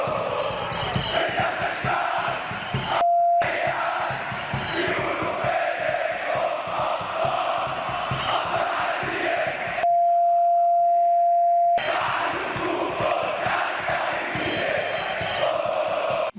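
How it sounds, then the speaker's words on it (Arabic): Zamalek football supporters chanting together in a packed Egyptian stadium, a dense roaring crowd sound that carries on steadily, broken twice by brief gaps where a steady electronic tone cuts in. "اتعمل عليه كاونتر عالمي من الجماهير الزملكاويه، وكان الهتاف بتاعهم بيقول"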